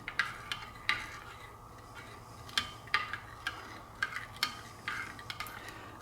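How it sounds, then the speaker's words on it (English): A spoon stirs sugar into Italian salad dressing, ticking and clinking against the container in quick irregular bursts, quiet and close, with no talking. "This is about another teaspoon of sugar. Just stir that in."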